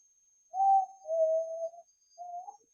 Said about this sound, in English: I can whistle when it's cold outside.